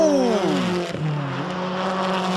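BTCC touring race cars roar along a track, with several high-revving engines overlapping and shifting pitch as they pass near and loud, with no voices over them.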